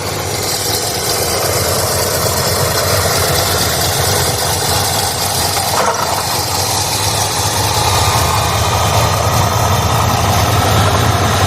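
A carbureted Ford truck engine idles steadily and loudly up close, a constant low rumble with a slight uneven knock, while the high idle fails to kick on.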